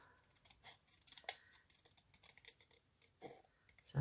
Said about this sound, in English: So let's cut these gloves out.